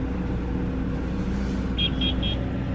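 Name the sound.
2009 BMW 328i engine running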